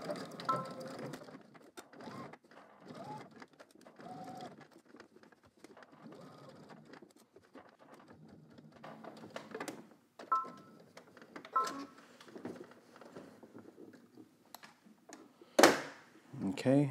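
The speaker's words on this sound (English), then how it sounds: "So let's go ahead to the sewing machine." A sewing machine stitching a fabric dart with a backstitch, heard as short bursts of mechanical whirring that start and stop, close but fairly quiet, with a person talking at intervals.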